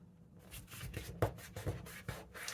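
Paper offcuts from a junk journal craft project being folded over by hand, close and quiet, with soft crinkles and a few sharper creasing rustles, no talking.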